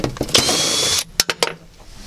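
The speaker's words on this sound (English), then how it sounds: "once they're loose, you can go full speed with the drill." Power drill spinning out loosened screws inside a 1987-1991 Honda Prelude during fuel pump removal, with a sustained high whir for about a second followed by several short bursts of the drill, close and loud.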